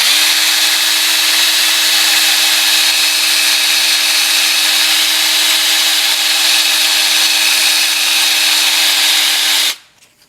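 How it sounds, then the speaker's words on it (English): A wooden lanyard bead spins on a power tool while being sanded with 100 grit emery cloth, giving a loud, steady whirring hiss with a constant motor tone that cuts off abruptly near the end. "This is 100 grit emery cloth."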